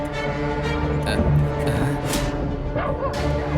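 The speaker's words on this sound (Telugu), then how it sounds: "కుక్కలు మురుగుతున్నాయి" Several dogs bark and yip close by in an outdoor movie scene, a steady cluster of short overlapping barks with some whimpering over a constant background hum.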